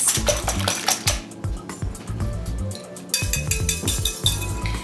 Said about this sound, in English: I'm gonna whisk my eggs.